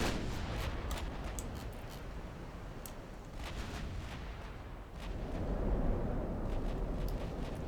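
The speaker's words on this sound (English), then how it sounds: "let's get you firing your full batteries" Naval gun batteries firing in Ultimate Admiral Dreadnoughts, repeated distant booming salvos over a rumbling sea backdrop, with a heavier roll of fire toward the end and no talk.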